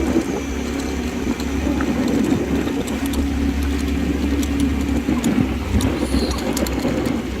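A motorbike rides along a road in Krabi, its engine a steady mid-pitched drone with rushing road and wind noise, close and continuous throughout.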